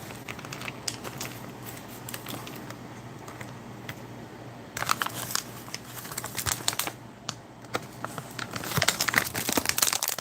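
Crinkling and rustling of a cut-open plastic military ration pouch of paella being handled, loose crackles at first, then louder, denser bursts of crumpling close by, with no talk.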